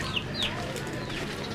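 Chickens cluck with a few short calls in a Hmong village in Laos, heard at a moderate distance over steady outdoor background noise.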